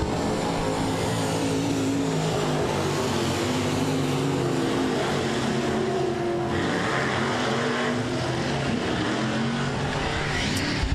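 Race cars roar around the I-37 Speedway track in a continuous, loud blend of engines that rises and falls as the pack passes, with no talking.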